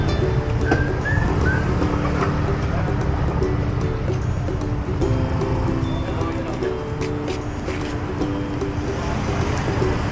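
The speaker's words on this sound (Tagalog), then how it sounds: "Grabe, ang lakas ng alon." Strong sea waves at Lambai Island in Pingtung, Taiwan, roar as a constant wash mixed with wind buffeting the mic, with people talking faintly beneath.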